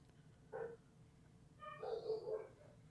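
Dogs bark in a home, two bursts: a single short bark, then a quick run of three or so louder barks a moment later, heard at a moderate distance over a quiet room.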